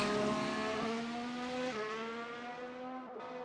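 A race car howls along the track at the Abu Dhabi round, a loud continuous high-pitched engine whine that dips at each gear shift and then climbs again, with no talk.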